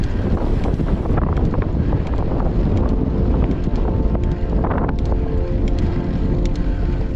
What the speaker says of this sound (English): A bit windy, some north winds, but not too bad.